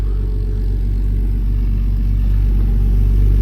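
A Porsche Boxster 986 with its 2.5-litre engine of about 200 bhp runs steadily at close range, producing a loud, continuous low rumble and whir without revving.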